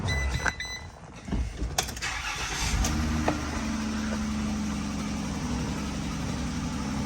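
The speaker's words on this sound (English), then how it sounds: "We're gonna start the vehicle" A 2014–2018 Ram ProMaster van engine cranks with a few clicks and clunks, then catches and settles into a steady, low idle hum that continues to the end, close by, with no talk.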